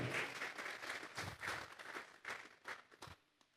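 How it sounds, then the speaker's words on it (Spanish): A church congregation claps for God during a sermon, a fairly faint run of uneven clapping that fades out near the end. "Dele fuerte esas palmas al Dios de la gloria."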